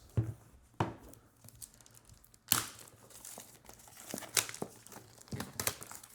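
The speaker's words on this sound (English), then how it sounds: "It's got some protective plastic around it." Protective plastic wrapping around a premium INART Dune Paul Atreides collectible figure box crinkles and rustles during unboxing, a few close, soft bursts of crackling with quieter handling between them and no speech.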